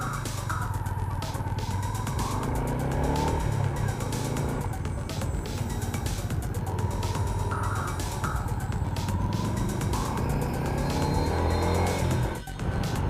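Road traffic is heard from inside a moving car during a top-up trip. Engines drone steadily and vehicles pass at close range, with a few louder swells and a sharp noise near the end.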